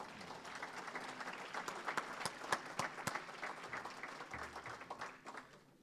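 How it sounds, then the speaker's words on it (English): Audience applause at a track and field and cross country Hall of Fame induction ceremony, a quiet, distant-sounding bed of clapping with crisp individual claps popping out, fading toward the end. "Let's give all these folks a nice round of applause,"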